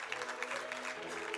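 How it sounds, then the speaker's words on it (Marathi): Audience applause at a cooking-competition award ceremony, dense steady clapping from a crowd, moderately loud and continuous throughout, with no speech over it. "जोरदार टाळ्या त्यांच्यासाठी झाल्या पाहिजे."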